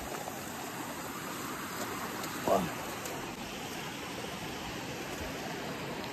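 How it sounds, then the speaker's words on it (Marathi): Steady, loud rushing of a strong-flowing stream in the Andharban jungle, Maharashtra, fills the whole stretch, a dense continuous roar with one brief splash-like burst partway through. "लय फ्लो आहे मित्रांनो पाण्याचा आहे"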